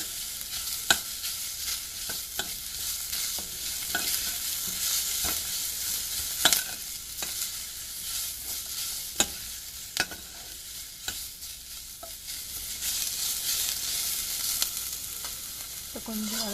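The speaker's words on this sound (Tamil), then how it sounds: "நல்லா வதங்கணும்." Spinach sautéing in a pan for sambhar, a steady hiss of frying punctuated by scraping stirs and occasional sharp clicks of the spoon against the pan.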